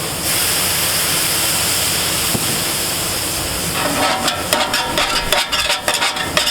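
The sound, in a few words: water sizzling on hot griddle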